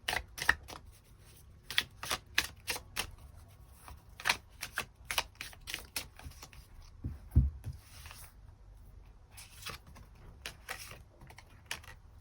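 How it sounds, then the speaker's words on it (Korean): Tarot cards shuffled and drawn at close range, crisp rapid riffles and flicks in short bursts with a few soft thumps as cards are laid down, no voices. "추가 카드 뽑아보도록 하겠습니다"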